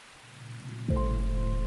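Steady rain falls as a soft broadband hiss, with a louder, denser wash of rainfall swelling in partway through and holding a low rumble underneath, under a layer of sustained tonal sound like background music.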